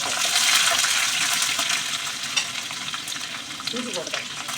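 Onion frying in a pan of hot oil with mustard seeds, dried red chillies and curry leaves, giving a steady, close sizzle that holds through with small crackles and a brief stir near the end.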